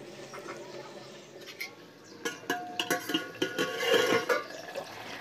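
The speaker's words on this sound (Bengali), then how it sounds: "ঢাকাটা খুলে দিলাম।" A metal plate used as a lid is lifted off a pot of chicken curry cooking on a clay stove, giving a run of light clinks and scrapes against the rim, close by over a low background hiss.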